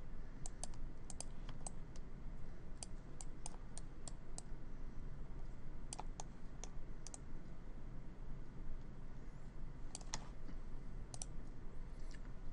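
Mouse or stylus clicks tap out in quick bursts with pauses while a self-portrait is digitally painted, crisp and close above a steady low hum.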